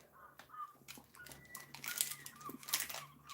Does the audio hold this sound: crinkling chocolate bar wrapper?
yes